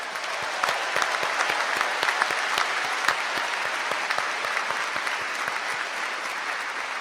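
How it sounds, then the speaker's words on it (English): A graduation ceremony audience applauds in a large hall, with dense, sustained clapping and sharp individual claps standing out throughout, at a steady, fairly loud level. "Give yourselves a round of applause."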